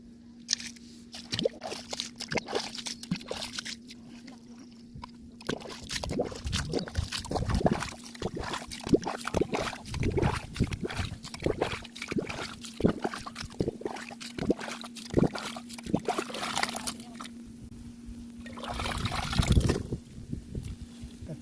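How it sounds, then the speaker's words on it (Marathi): A tin can bails water out of a flooded crab burrow dug in the ground, giving repeated close splashes and sloshing scoops in an irregular rhythm, with some quieter pauses between. "हे पाणी सगळे हे काढून घ्यायला लागणार आहे या डाब्याने"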